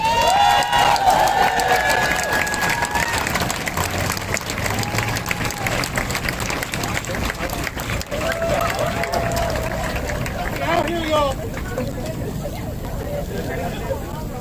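Outdoors at a Philadelphia queer march for Black lives, a large crowd applauds and cheers in a sustained wash of clapping and whoops, with voices talking over the noise.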